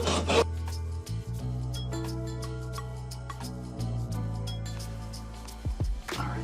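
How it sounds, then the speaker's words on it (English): Metal door bolts are cut down, a continuous close rasping, grinding sound over a humming tone that shifts pitch several times, with occasional sharp ticks. "So let me go ahead and cut these bolts down a little bit."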